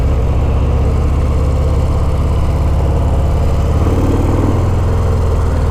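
A 2019 Harley-Davidson FXDR motorcycle engine running loud and close, a deep steady throbbing rumble that shifts pitch partway through as it changes gear while cruising, with no voices.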